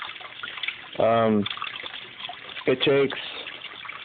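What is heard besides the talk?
water flushing through small aquaponic system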